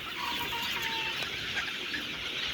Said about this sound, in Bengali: এখানে মুরগি আছে প্রায় বত্রিশশো তেত্রিশশোর মতো মুরগি আছে